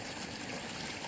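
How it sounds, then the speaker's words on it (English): Water rushes through an irrigation ditch flume fed from Oak Creek on a ranch, a dense, even, full-bodied roar of flowing water with no pauses, close and steady. "the creek is running real big down there still"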